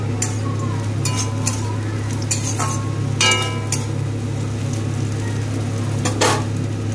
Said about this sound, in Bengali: পেঁয়াজ ভাজা ভাজা হয়ে গিয়েছে, এবার এতে দিয়ে দেব অল্প করে কাজু আর কিশমিশ।